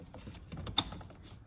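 Two vacuum hoses press onto fittings on a Ford F150 engine, giving soft creaks and light plastic rubbing with one sharp click partway through, close and quiet with no talk.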